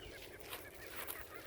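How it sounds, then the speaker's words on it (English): Birds chatter outdoors in a garden, giving brief faint honking and clucking calls over a soft background hiss in a short snippet. "These birds that are chattering."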